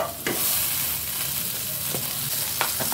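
A spoonful of butter sizzles and crackles steadily in a hot pan for a dhaba-style chana dal tadka, loud and close with a few sharp pops and no talk.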